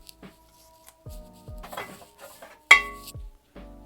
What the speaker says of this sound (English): Just gonna get a clay pot that should be a good size